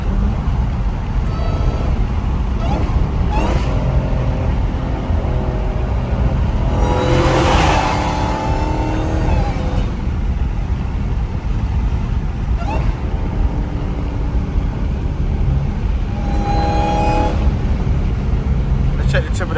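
A Dodgers-style Hellcat muscle car with a supercharger is driven hard on back roads, its engine droning and surging through repeated full-throttle pulls under heavy wind buffeting, with someone talking throughout.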